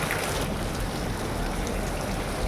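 Heavy rain falls on a road while water runs across it, making a dense, constant hiss and wash of steady loudness throughout.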